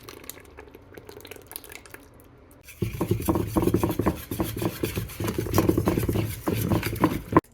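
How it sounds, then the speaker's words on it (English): Wet and dry waffle batter ingredients being mixed in a bowl, a steady run of clinking, scraping stirs and wet slapping after a quiet start, close and fairly loud with no talking. "Next, mix the wets and the dries."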